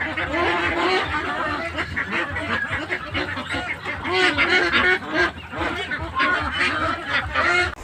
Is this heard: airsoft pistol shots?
no